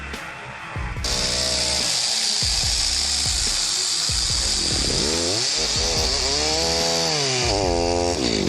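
A chainsaw cuts through an uprooted tree, starting with a lower idle then rising to a loud, steady high-pitched whine from about one second on, with its pitch bending and wavering as the blade bites into the timber.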